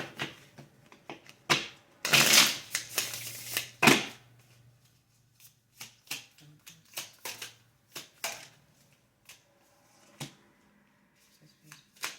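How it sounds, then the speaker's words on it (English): Deck of playing cards being shuffled in a loud riffling burst at the start, followed by scattered light card snaps and taps, close and with no talking. "So we're going to have to get a different deck of cards."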